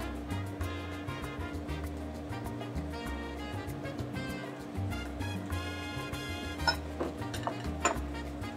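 Bacon and whole wheat pasta cook in a pan, faint sizzling under repeated clinks and scrapes of a utensil stirring against the metal, soft and fairly close.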